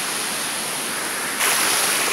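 The Vega del Sol waterfall roars in a steady, broadband wash of falling water, close and continuous, growing slightly louder partway through, with no talk.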